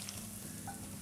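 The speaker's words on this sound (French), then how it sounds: "Donc là maintenant je verse le beurre noisette" Browned butter (beurre noisette) poured from a pan into a cake mould, a steady close sizzling, frying hiss running evenly through the whole second with no voices.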